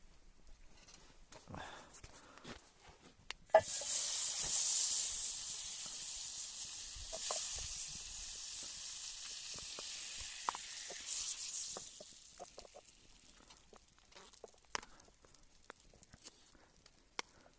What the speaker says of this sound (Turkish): yumurtalarımızı da pişirelim